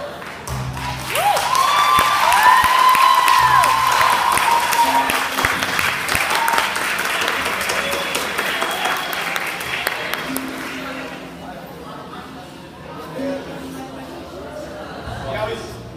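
An audience at a lively medical-themed show breaks into loud applause, the clapping swelling early and then thinning out, with music, voices and scattered sounds mixed in underneath.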